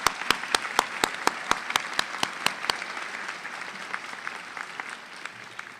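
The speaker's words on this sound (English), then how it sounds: "A round of applause to our students." Audience at a fall college convocation applauds the students with a burst of steady, evenly spaced claps that thin out and fade toward the end, fairly close and clear.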